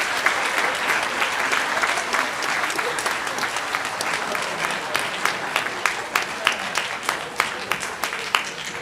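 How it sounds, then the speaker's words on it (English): Audience at a high school spring concert applauding students, a dense steady wash of many hands clapping close and loud throughout, with a few sharper individual claps standing out toward the end. "now we can give them all some hand applause"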